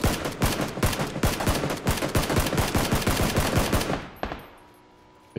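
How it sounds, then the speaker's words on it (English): Sustained automatic gunfire from the PUBG video game plays at a steady rapid rhythm of close, loud shots for about four seconds, then stops abruptly and leaves near silence. "This guy's shooting at me from behind."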